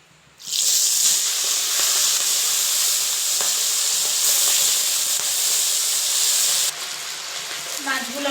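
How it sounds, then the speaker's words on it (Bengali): Prawns drop into hot oil left over from frying pointed gourd, setting off a loud, sustained hiss and sizzle that runs steadily for several seconds before easing slightly near the end. "এই পটল ভাজার তেলেই আমি মাছগুলো ভেজে নেব।"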